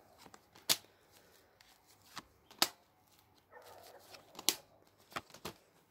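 Tarot-style divination cards being shuffled and riffled, a few sharp, quiet snapping flurries spaced a second or two apart, with soft handling rustle between them and no talk.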